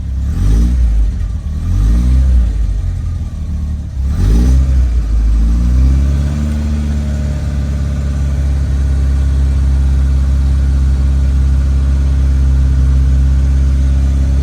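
A carburettor-fed engine in a restomod Lotus Elan runs while warming toward temperature, starting with a few revs that rise and fall and then settling into a steady, loud, close idle with no talking.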